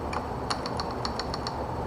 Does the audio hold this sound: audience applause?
no